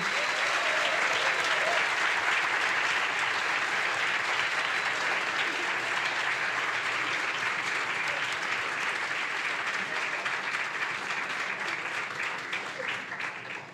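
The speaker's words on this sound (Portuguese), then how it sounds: "Gente, uma salva de palmas à ministra Macaé Evaristo." An audience at a cultural talk event gives a long, steady round of applause that holds at an even level, dense and fairly close, before slowly tapering near the end.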